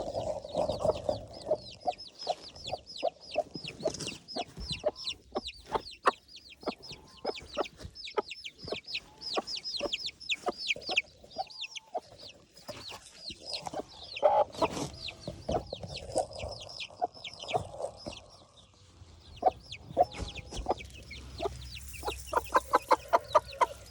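Chickens in a poultry house, waiting to be fed, cluck continuously in a dense, overlapping chorus of short calls from several birds nearby, with no talking.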